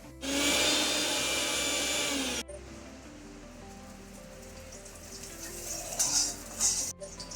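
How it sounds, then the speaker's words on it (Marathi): A mixer grinder grinding garlic cloves and green chillies whirs loudly for about two seconds and then cuts off abruptly, followed by softer clinks and a low hum. "तर मी मिक्सरमध्ये काढून घेते त्या"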